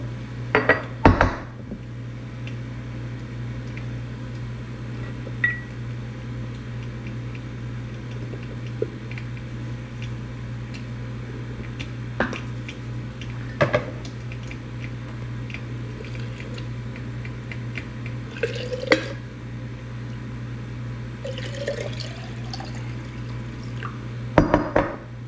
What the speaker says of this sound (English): I'm gonna pour this right over my eggs